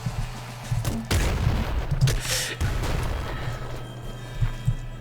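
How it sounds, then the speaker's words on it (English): A grenade launcher fires in the top-down shooter Nuclear Throne, sharp game booms and explosive bursts landing at irregular intervals over a low background hum. "let's pick up a grenade launcher, why the hell not?"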